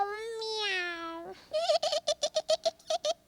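A human voice mimics a cat, first with one long drawn-out meow and then a quick series of about ten short, sharp meows, close and alone.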